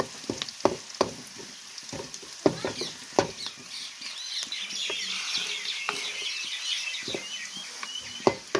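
Tamarind pulp frying in hot oil for a bitter gourd stew, a steady close sizzle with repeated scraping strokes of a spoon stirring through the pan, no talking.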